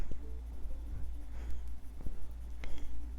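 Soft, steady scratchy rubbing of a waxy Prismacolor colored pencil blending back and forth across paper, close up and quiet, with faint low background hum.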